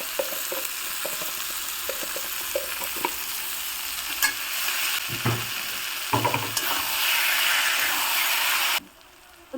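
Banana flower curry with prawns and chopped coriander being stirred in a frying pan, a sizzle under repeated scraping strokes of a spatula, close and steady, then stopping abruptly near the end.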